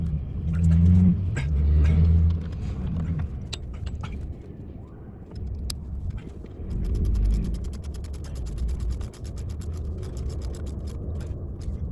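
A ratchet clicks in short, quick bursts while tightening the top bolt of a starter on a Ford F-250 7.3 Powerstroke diesel, close and fairly quiet in a cramped engine bay, with brief clatters of tools between the bursts.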